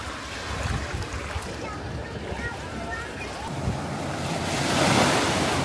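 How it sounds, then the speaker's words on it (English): Ocean surf at a beach on Putuoshan island in Zhoushan, Zhejiang, rolling waves with strong wind buffeting the microphone, a wave swelling louder toward the end. "here is the vast,"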